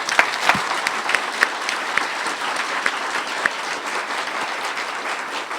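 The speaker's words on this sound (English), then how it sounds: "please give him a big round of applause" An audience at a tech conference applauds after a speech. Dense, sustained clapping from many hands fills the hall at a steady level with no talking.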